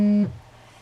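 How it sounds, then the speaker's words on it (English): A mobile phone rings with a short electronic tone, a steady bright pitch with harmonics that cuts off abruptly after about a quarter second and leaves a quiet room. "Can you hear that? That's my phone ringing."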